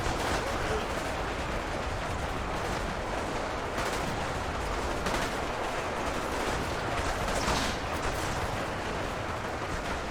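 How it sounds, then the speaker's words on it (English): A dense, continuous battle din of modern AR rifle fire mowing down World War II Russian soldiers in a huge city battle in Ultimate Epic Battle Simulator. Shots blur into a steady, fairly faint roar with no clear gaps. "AR rifle, proving its mettle right now. Just mowing down these World War II soldiers like nothing."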